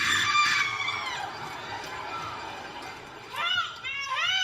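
A group of children scream loudly together in a long drawn-out shriek that sags in the middle, then breaks into a few more sharp high cries at the end.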